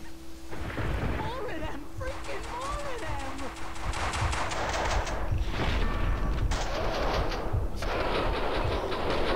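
Bursts of gunfire in the video game Max Payne 2, sharp loud volleys separated by short gaps, with rumbling game noise and brief vocal sounds between.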